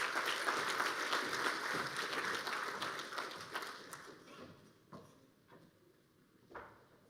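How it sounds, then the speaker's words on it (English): Applause for an award recipient at an alumni excellence awards ceremony: dense clapping fills the first few seconds, then thins out and fades to scattered claps. "Can we give her another round of applause,"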